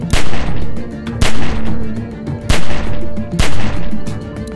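Gunfire in the video game The Walking Dead, loud close shots in a steady rhythm of about one per second, each crack followed by a brief echoing tail, with no talk.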